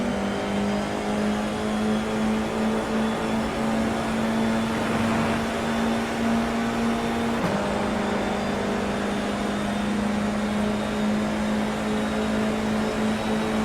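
Simulated race cars launch off the start line in an iRacing league race at the US Grand Prix, a loud, steady engine drone climbing in pitch, with one shift partway through and no talking.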